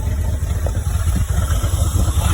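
A 1986 Chevy K10 Squarebody truck idles after a cold start through a worn exhaust, its low steady rumble loud and close with no talk.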